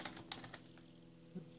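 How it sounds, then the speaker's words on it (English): Keys on a wired computer keyboard connected to an LG smart LED TV click in a quick cluster of taps, then pause before one more soft press, close and quiet. "Let's test out the keyboard."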